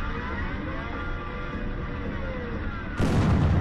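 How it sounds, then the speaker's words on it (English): Explosions in a Roblox theme park obby game, a dense rumbling barrage of booms running steadily throughout and swelling into a louder, harsher blast near the end, with no talking. "Some explosions."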